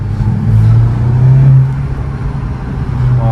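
A Volkswagen Golf 7 GTI Performance engine drones low and steady with a slight rise in revs, heard from inside the car with its windows open, loud and close.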